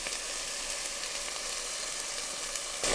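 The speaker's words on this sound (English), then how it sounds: "I'm going to go ahead and add half a can of this coconut milk." Softened onions frying in a pan give a steady, close hiss and crackle that stays even as half a can of coconut milk goes in for a Thai yellow curry chicken dish.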